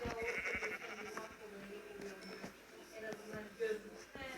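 Several sheep bleat in quick succession amid game-style sound effects in a video game, quiet and somewhat distant, with people talking in Turkish over them.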